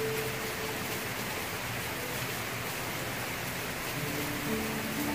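Rain falling steadily on a garden during a thunderstorm, a constant dense hiss of drops with no pauses and no voices.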